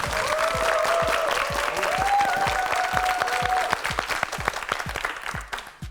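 A studio audience at a Korean television quiz show bursts into sustained applause, a dense, even wash of clapping that tapers near the end, with a faint tone briefly sounding underneath.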